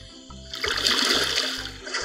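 A character splashes and gulps water in the Ark Mobile game, a brief burst of sloshing, gurgling liquid over a low droning in-game background.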